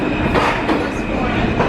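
A New York subway train pulls into a station with a loud, close rumble of wheels on rail and brief rhythmic clacks over about two seconds.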